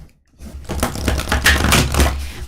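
A deck of large, slick, bendable playing cards is riffle-shuffled up close, giving a dense, rapid fluttering patter of cards that swells and lasts about two seconds.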